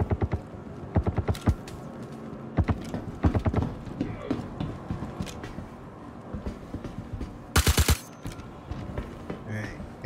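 A silenced gun's magazine is emptied in a Star Citizen bunker fight: clusters of quick, dull, clicky shots, some soft and some sharper, with short pauses between bursts.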